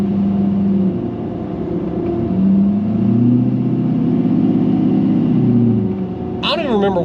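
A diesel pickup's LBZ Duramax engine rumbles steadily and fairly loud, swelling in a slow rev midway before settling, with a brief whine or squeal near the end.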